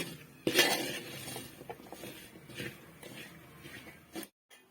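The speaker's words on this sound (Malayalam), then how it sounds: "ഇനി പൊടിവകകൾ നന്നായിട്ട് വഴറ്റി കൊടുക്കുകയാണ്" A spatula scrapes and clinks in a pan as spice powders are sautéed for a beef fry. The stirring knocks come irregularly and fairly quietly, then stop short at the end.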